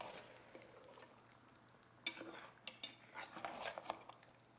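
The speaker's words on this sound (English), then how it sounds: "And I'm just going to give everything a nice mix." A spoon scrapes and clinks against a pot while Greek-style chicken kapama in tomato sauce is mixed, with quiet stirring at first and then a run of sharper metallic knocks in the second half.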